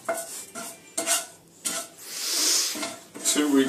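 Pasta is stirred round and round in a pan, a spoon scraping and knocking against the metal in several uneven close strokes with short pauses between.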